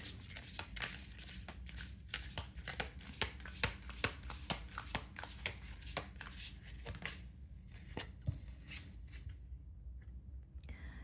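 Tarot cards shuffled by hand for a reading, a fast riffling run of crisp papery clicks and flutters lasting several seconds, close and moderately loud, tapering into a few scattered slaps and taps near the end.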